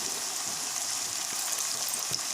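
Ginger garlic paste frying in a pan of chicken curry, a steady close sizzle and hiss with a few small pops and faint stirring knocks throughout.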